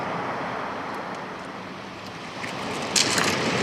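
Big waves breaking on a beach at night during a bass fishing session, a steady, moderately loud wash of surf with a slightly stronger surge near the end.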